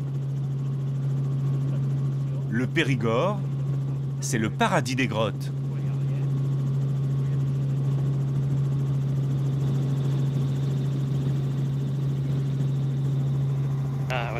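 A helicopter drones steadily throughout over the Périgord countryside with a constant low rotor hum, while someone speaks briefly over it near the start.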